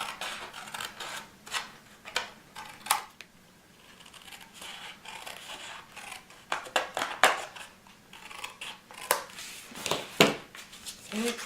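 Paper snips trim triangles off card flaps at a score line while a birthday gift card holder is being made. The close, crisp cuts come in irregular bursts, with paper rustling in the pauses.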